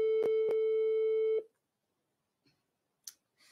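A single telephone ringback tone, steady and clear, sounds in two close pulses, then stops abruptly, leaving near silence with a few faint clicks and rustles.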